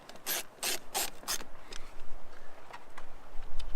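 A screwdriver drives screws into an Airstream furnace, with four loud rasping turns up front and then quieter ratcheting scrapes at an irregular rhythm, close by.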